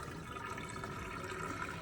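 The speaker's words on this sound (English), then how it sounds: "I'm going to dump the hot water" Hot water from a pot of boiled eggs pours into a kitchen sink in a steady, faint, continuous splashing rush that lasts throughout, with no voices.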